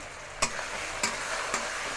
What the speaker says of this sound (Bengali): আর এটাতে পেঁয়াজ আর টমেটো ভাজা ভাজা হয়ে যাচ্ছে